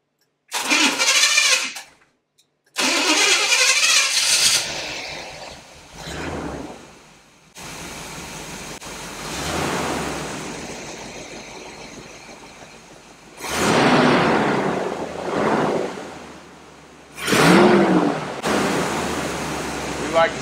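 A 1977 Corvette C3 that sat outdoors for nine years cranks and fires up, its engine catching in loud bursts then settling into rough revving and idling, with gaps of quiet between starts.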